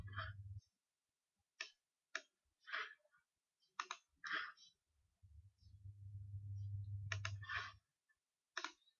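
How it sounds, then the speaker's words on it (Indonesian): Computer keyboard key presses while operating pharmacy software, sharp separate clicks and taps spread across the stretch, with a low steady hum coming and going behind them. "Untuk menyimpannya tekan F9 di keyboard."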